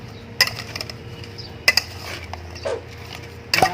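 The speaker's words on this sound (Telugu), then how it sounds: "ప్లేట్లో పెట్టుకొని గిన్నె బాగా కలుపు" A spoon stirs and scrapes a tindora fry mixture in a metal bowl, producing a few sharp, close clinks and scrapes spaced irregularly over a soft background.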